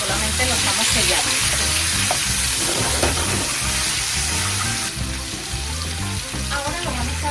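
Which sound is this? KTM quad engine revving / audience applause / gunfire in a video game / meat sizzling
meat sizzling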